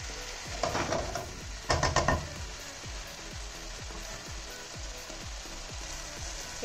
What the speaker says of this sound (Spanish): Lo vamos a dejar ahí sofreír por unos 10 minutos más.